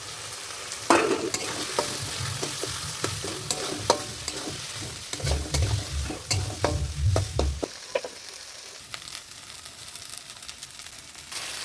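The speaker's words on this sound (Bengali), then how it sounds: "এর মধ্যে দিয়ে একটু নাড়াচাড়া করে ভেজে নেব নারকেলটা" Ground coconut stirred into fried spice paste for a banana-blossom and prawn dish, a steady sizzle under repeated spatula scrapes and knocks against the pan, close and clear, without talk.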